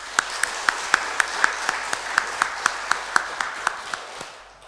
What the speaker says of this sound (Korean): 다시 한번 환영의 박수 한번 해주세요.